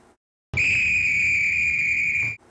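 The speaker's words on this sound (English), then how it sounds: "that's the conductor's whistle" A single long, steady high-pitched train conductor's whistle blast, close and clear, lasting about two seconds before cutting off.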